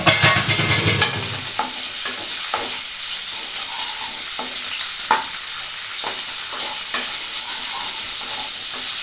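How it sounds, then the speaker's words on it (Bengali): Sauces being stirred in a hot frying pan while making jeera paneer rice, a loud continuous sizzle with a spoon scraping the pan in regular strokes, close up. "নাড়াচাড়া করে নেবো"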